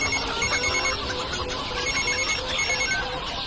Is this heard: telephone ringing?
yes